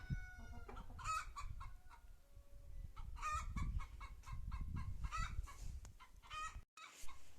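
Chickens cluck and squawk repeatedly nearby, with a rooster-like call at the start and a busy background murmur.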